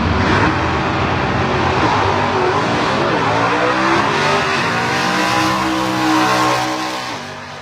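Drag race cars, a Chevy Corvette with a manual transmission and a small block and a Thunderbird, roar loudly at a race, engines revving and shifting pitch in a sustained, close, dense blast that fades slightly at the end.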